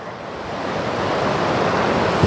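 A river rushes in a steady, broad roar of flowing water that swells slightly louder, with no voices over it.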